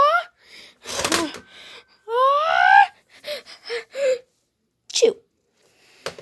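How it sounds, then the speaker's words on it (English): A single sneeze bursts out among gasps and hushed, whispered voices during an indoor Nerf war game, with short breathy sounds around it. "I have to sneeze."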